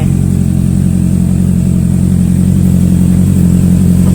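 A 2017 Honda CB650F motorcycle engine idles steadily up close, a continuous low rumble with no talking.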